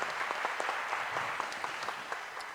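An audience breaks into applause, many hands clapping in a dense, even patter at a moderate distance, with no voices over it.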